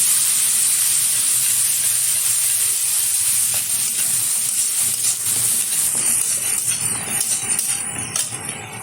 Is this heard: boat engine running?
no